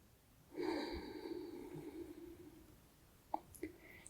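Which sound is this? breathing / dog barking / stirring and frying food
breathing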